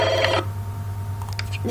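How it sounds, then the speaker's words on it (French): Electronic telephone ringtone from The Sims 2 life-simulation game, a short synthetic trill of ringing notes heard alone over a steady low game hum, with no talking. "Le téléphone sonne."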